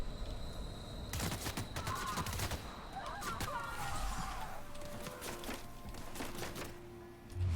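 Bursts of video game gunfire from The Outer Worlds, a rapid rattling volley in the opening seconds followed by scattered shots and impacts amid combat noise, fairly close and steady in level.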